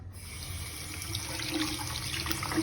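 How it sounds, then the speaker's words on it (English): Tap water runs steadily into a sink as hands are washed before dinner, a continuous close splashing hiss with no talk over it. "so I'll just wash my hands and then eat my dinner."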